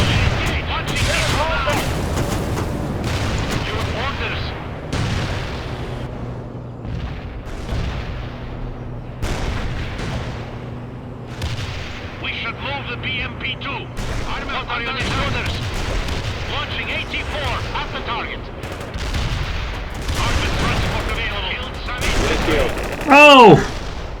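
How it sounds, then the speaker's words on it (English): Missile launches and explosions in the World in Conflict video game, a steady run of gunfire, booms and blasts across the whole stretch, with game radio voices talking over the battle and a louder burst near the end. "Launching missile now."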